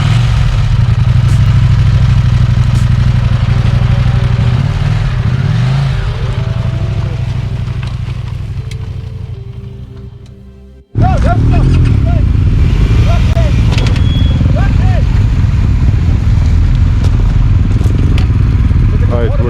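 Adventure motorcycle descending a loose dirt hill during off-road riding training: a steady engine drone with clattering that fades to a cut near midway, then resumes loud and close with the engine running, under background talk.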